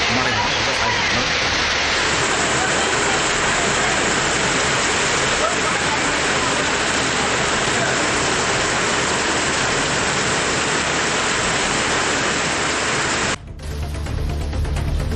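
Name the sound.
heavy rain pouring at night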